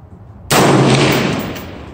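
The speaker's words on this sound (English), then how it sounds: "With a heavy barrel, I'm just gonna shoot the same target, which is the first target, left upper target." A single sharp rifle shot from a TC Compass 6.5 with a heavy barrel and a LimbSaver Sharpshooter barrel dampener, fired at a target. It cracks loud and close, then rings out in a long fading tail.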